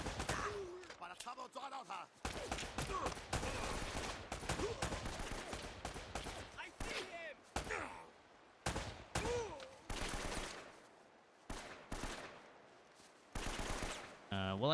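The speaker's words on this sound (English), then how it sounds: "I hear that guy shooting an awful lot" Enemy gunfire in the video game Uncharted: Drake's Fortune, bursts of rapid automatic shots and single cracks, loud and close, coming in clusters separated by brief pauses, with a voice talking at times between them.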